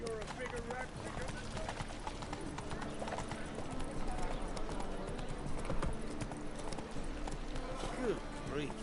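A horse gallops in the video game The Witcher 3, steady rhythmic hoofbeats clip-clopping throughout under game music, with voices talking over it.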